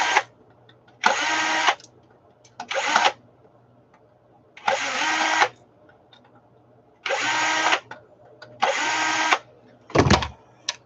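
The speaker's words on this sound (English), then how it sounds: "It's all real small screws, and you're really just using a drill." Power drill backing small screws out of hard drives, running in about six short, loud whirring bursts with brief pauses between them, and a clunk near the end.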